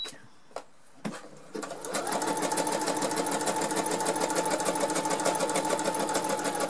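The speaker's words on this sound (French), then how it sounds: "je vais faire un surfilage en 2" An overlock sewing machine serges the edge of recycled fabric for a two-material curtain, starting after a few clicks and then running in a steady, close, rapid whirring stitch.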